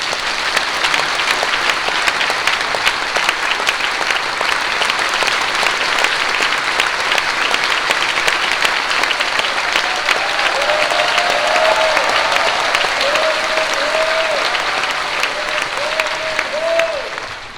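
A church congregation gives warm, sustained applause welcoming the new general assembly moderator at a thanksgiving service, steady dense clapping filling the hall for about seventeen seconds with a few faint voices near the end.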